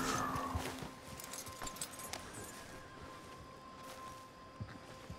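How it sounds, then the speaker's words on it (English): A horse is hitched in Red Dead Redemption 2, its hooves clip-clopping in scattered, fairly soft steps after a brief louder start, with faint tack jingling. "We're just hitching the horse here, okay?"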